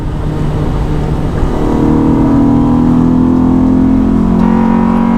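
A Honda Prelude race car engine with VTEC, its interior stripped out, revs up loudly inside the cabin, with a rising tone that climbs steadily across the run with no talking.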